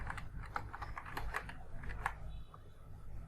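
Keystrokes on a computer keyboard as text is typed into a PowerPoint shape, a quick irregular run of close, soft clicks over a low room hum.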